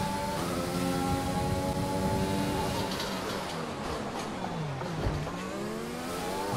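Formula 1 race car in the video game F1 2020 at the Singapore circuit, engine whine rising and falling in pitch as it sweeps past, with steady loud engine drone throughout.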